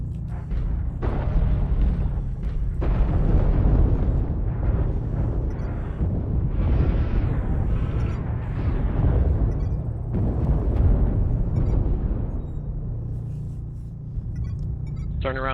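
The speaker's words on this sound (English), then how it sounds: "Artillery strike activated." Artillery strike explosions in the MechWarrior Online video game form a heavy, continuous rumble of overlapping booms, loud and sustained throughout and fading slightly at the end.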